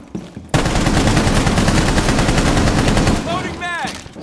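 Rainbow Six Siege automatic gunfire during a Chalet team deathmatch, a loud sustained burst of rapid shots that starts abruptly and tapers off before a short voice is heard at the end.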